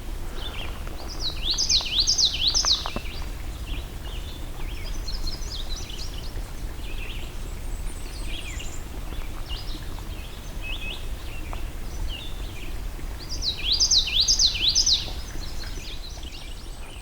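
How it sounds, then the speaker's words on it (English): A warbler, likely a common yellowthroat, sings loud bursts of repeated chirping phrases from hiding low in reeds at a swamp, two clear song bouts separated by softer distant calls over a steady background hiss. "I can't even see this bird, but he's nice and loud"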